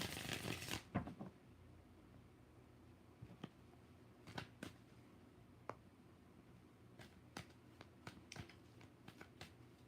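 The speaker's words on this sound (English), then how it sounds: "One more shuffle for Antoinette." Tarot cards are shuffled close by in a quiet room, with a loud riffling flurry at the start followed by scattered soft taps and flicks of the deck.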